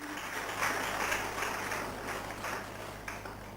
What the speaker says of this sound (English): Give her a huge round of applause, please, ladies and gentlemen